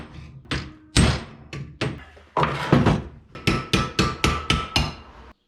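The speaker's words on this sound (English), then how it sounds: "I might just finish that off in the vise with the hammer" A hammer strikes sheet metal clamped in a vise, a dozen or so sharp metallic blows close by, irregular at first and then settling into a quick, even rhythm.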